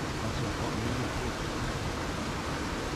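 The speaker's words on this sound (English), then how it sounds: "It's got the water boiling there." Water boils in a pot at a wild camping spot, a steady, loud, even hiss and roil that holds unchanged throughout with no talking.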